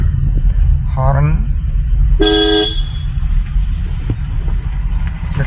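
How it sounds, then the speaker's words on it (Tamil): A sharp, brief car horn honk sounds once amid road traffic noise on a narrow road with a bus approaching, following a rising engine or horn-like whine a moment earlier. "ஹாரன்."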